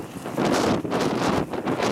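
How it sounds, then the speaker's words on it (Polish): Steady wind buffeting the microphone at a water tram pier on the Vistula in Gdańsk-Stogi, a continuous low roar with gusty swells throughout and no other clear sounds. "No a wiatr trochę hula tutaj, no nie jest za ciepło."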